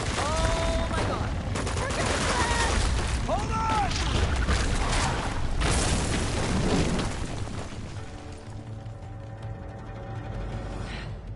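Gunfire in the video game Uncharted 2, rapid bursts of shots and booms mixed with game music and a character's shouting voice, fading to quieter background music at the end.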